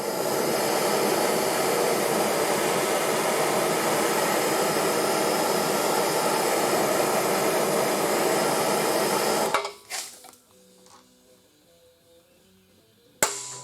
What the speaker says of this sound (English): right now I gotta put the heat to it